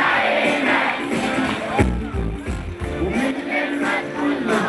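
Crowd and fans cheering and chanting at a summer concert in Ain Sokhna as a song opens, a dense sustained roar of many voices with music underneath.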